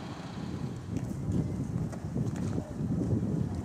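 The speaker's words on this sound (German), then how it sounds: "Es weht ein recht kalter Wind" Cold wind gusts across a snowy road in Obertauern, producing a rough, rumbling buffet on the microphone that swells and eases continuously throughout.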